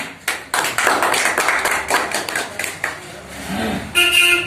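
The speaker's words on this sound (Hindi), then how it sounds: "उनके सम्मान में जोरदार ताली" A crowd at a gathering breaks into loud clapping in someone's honour, uneven bursts of hand claps rising and falling, with a sharp tonal sound near the end.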